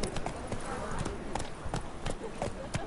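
In The Witcher 3, the horse Roach's hooves clip-clop in a quick, regular rhythm, close and moderate in level, under a voice.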